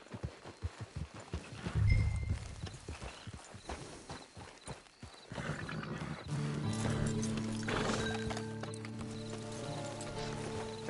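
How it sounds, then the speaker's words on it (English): Hooves clip-clop steadily from a horse in a PS4 video game, near and rhythmic, with a brief whinny and some mechanical clicks, followed by layered game music and ambience. "It's your horse."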